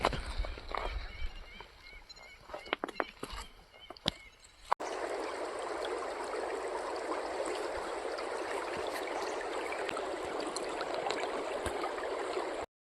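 A mountain stream near the Mahakal temple rushes in a steady, broad wash of flowing water, preceded by a few seconds of scattered knocks and rustling.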